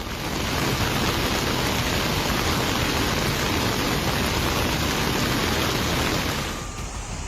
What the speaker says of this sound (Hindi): कांगड़ा त्रिलोकपुर मंदिर के पास नाले ने एक रौद्र रूप धारण कर लिया है।